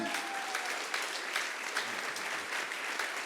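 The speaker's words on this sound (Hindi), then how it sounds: "हाँ, तालियां आपकी बजती रहनी चाहिए।" An audience at an honorary degree ceremony claps steadily and fairly loudly, a thick continuous wash of applause lasting several seconds.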